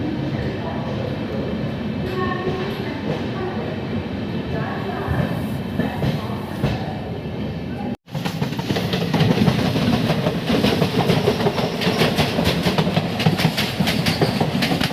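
Interior of the LHB-coach 18628 Ranchi–Howrah Intercity Express under way: steady loud rumble with rhythmic wheel clatter, a brief dropout midway, then brighter, denser rattling, with voices faintly in the background.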